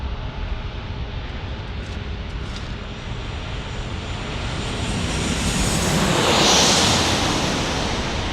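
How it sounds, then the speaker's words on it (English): Southwest Airlines jet arriving at San Diego airport, a broad engine roar that swells as the plane draws nearer and passes, with a steady rush under it and no talk. "In the meantime, we have Southwest Airlines arriving right here."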